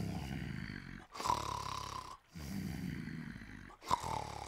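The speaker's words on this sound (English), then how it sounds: "Listen, I'd recognise that snoring anywhere." Loud, steady snoring from a sleeper hidden out of sight, three long rasping breaths with brief quiet gaps between them, heard alone with no talk.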